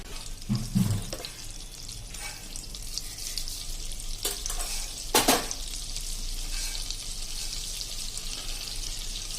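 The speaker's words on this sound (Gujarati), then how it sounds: "હવે આ ગરમ થાય એટલે એમાં આપણે 1 ટીસ્પૂન જેવું જીરું નાખી દેશું, આખું જીરું." A teaspoon of whole cumin seeds sizzles in hot oil in a pan for a vegetable macaroni pasta. A continuous close crackling hiss carries a couple of sharper spatter bursts, and nobody speaks.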